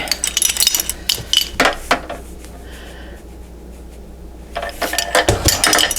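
Metal measuring spoons clink and clatter sharply in rapid clusters against a container while salt is measured for ketchup, followed by a quieter pause and then another burst of clinking.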